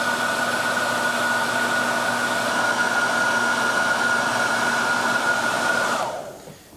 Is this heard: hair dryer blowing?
yes